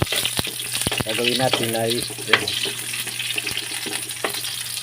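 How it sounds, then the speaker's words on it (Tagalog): Onion frying in hot oil for chicken adobo, with a loud, continuous sizzle, scattered clicks of stirring, and a brief spoken phrase early on. "So lalagay na natin ang sibuyas."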